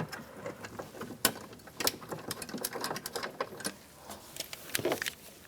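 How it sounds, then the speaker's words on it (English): Two screws are driven into the door plate of a GMC Yukon, heard as a close, busy run of small clicks and ratcheting taps in quick bursts. "2 screws, get those started."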